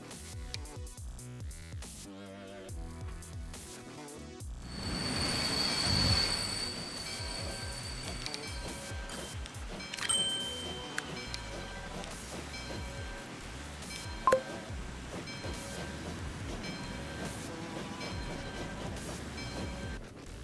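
A freight train in Transport Fever 2, with American rolling stock on an iron ore line, rumbles along with rail noise and sustained wheel squeal, sometimes with sharp metallic screeches and a brief loud click partway through.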